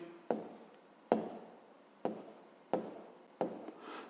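Handwritten strokes jot down a fifth-grade math solution, a few close scratchy strokes in bursts roughly every second, each fading after a sharp start, with no talking.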